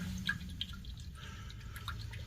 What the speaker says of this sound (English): Looks like water's still coming in from there.